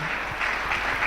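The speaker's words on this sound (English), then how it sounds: "Let's clap clearly." Audience clapping at a roundtable and award ceremony, a soft, diffuse patter of hands from a gathered crowd, fairly quiet and steady without breaks.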